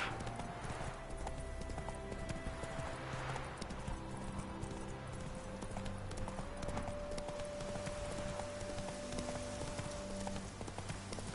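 Steady hoof clip-clop of a horse galloping with a race saddle in the Witcher 3 video game, an even, continuous rhythm running close and clear throughout, joined by a faint whinny, with no talking.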